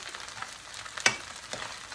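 Chicken pieces for chicken lollipops fry in a pan over a medium flame, giving a close, steady crackling sizzle with one sharp spatter-pop in the middle and no voices.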